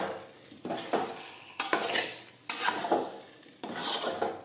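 Boiled vegetables stirred into undhiyu in a pot, giving repeated scraping and clinking of a spoon against the metal in short bursts, close and fairly quiet, with no voice.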